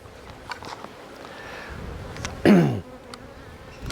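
Honey bees buzz faintly around an open hive on Kangaroo Island, several insects droning in brief passes, with one close, louder buzz sweeping past near the middle.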